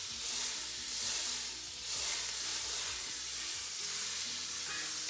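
Butter melting in a hot pan while cooking a potato side dish, giving a steady, close, continuous sizzle and hiss with no talk.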